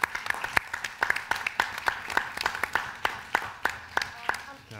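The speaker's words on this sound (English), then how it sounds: "can we give Anna a round of applause" Sparse, fairly quiet clapping from a small audience at a community discussion, honoring a student named Anna: a few distinct claps in a loose rhythm, with faint background noise.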